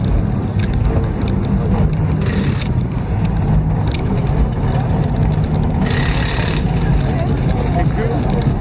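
Diesel truck exhaust and engine noise at a truck show, a loud constant rumble with a rough idle that runs the whole time, joined by brief higher bursts that sound like revving.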